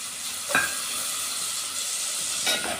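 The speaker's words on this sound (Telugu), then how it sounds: "ఒక నిమిషం ఇలా ఆయిల్లో ఉడికించుకోవాలి" Soaked chana dal and ridge gourd frying in hot oil with onion and turmeric, a steady close sizzle with two brief scraping stirs of a spatula.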